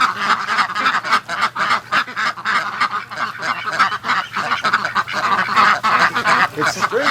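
Adult ducks quack and honk continuously in a loud, close chorus of overlapping calls in the rain, with no voices.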